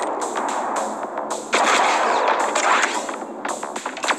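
Gunfire in the mobile game Johnny Trigger, rapid sharp shots in quick uneven bursts over a dense, busy game soundtrack, fairly loud and close.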